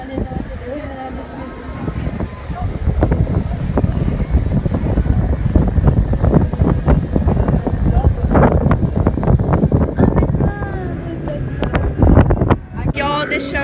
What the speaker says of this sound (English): this shows how windy it is